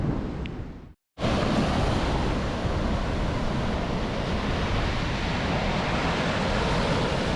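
Ocean surf on a beach with an east wind blowing, a loud continuous broadband roar of waves and wind buffeting the microphone, briefly cut out near the start, then steady throughout with no talk.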